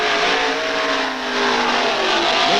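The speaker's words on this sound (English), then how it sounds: "Above the screams and roars of the head-up engines" Drag racing car engines roaring loudly at Atco strip in the 1960s during time trials, a continuous raw high-revving blare with a slight dip and swell.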